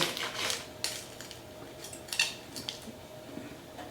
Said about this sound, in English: Let's cut a piece here.